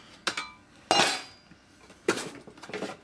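A metal plate comes off an older Kenmore suitcase-style canister vacuum with a few sharp metallic clanks and rattles, loud and close, separated by short pauses.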